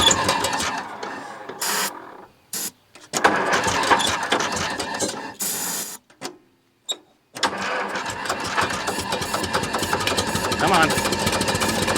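A 1941 International Harvester TD-14 bulldozer engine, abandoned for years and fed ether, cranks in rough sputtering bursts between pauses, then catches and runs loud and steady, with a man urging it on.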